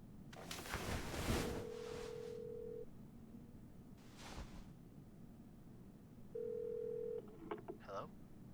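Phone call tones in Life is Strange 2: a steady dial-style tone sounds twice with pauses between, set among bursts of noise and faint background sound.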